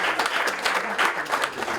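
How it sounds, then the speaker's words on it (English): Brief scattered applause from a small audience at a talk, a short burst of clapping lasting under two seconds. "Oh, a little applause."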